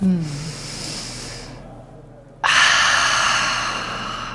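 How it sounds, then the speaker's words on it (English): A slow, deep breath drawn in through the nose during belly breathing, a soft airy hiss that rises and then continues strongly after a brief pause, close and fairly loud. "So I take a deep breath in through my nose."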